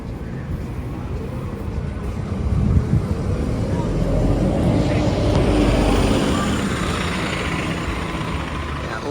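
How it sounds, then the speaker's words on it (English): A single-decker bus engine roars steadily in a broad, loud low rumble that swells in the middle and eases toward the end, with birdsong faintly in the background. "the only thing that's not good about the bus is the fact that the engine roars a lot"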